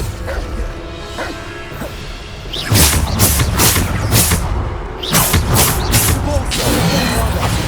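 Spell impacts in Hogwarts Legacy land as a run of loud booms, crashes and whooshing blasts, starting a few seconds in and repeating in quick bursts.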